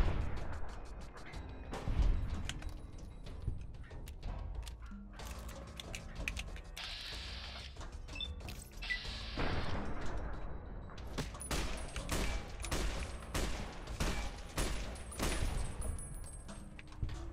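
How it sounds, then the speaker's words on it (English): Minigun fire in the video game Fallout: New Vegas comes as rapid clattering bursts with mechanical whirring and ratcheting, the heaviest stretch of fire filling the latter part of the clip. "That's a minigun somehow."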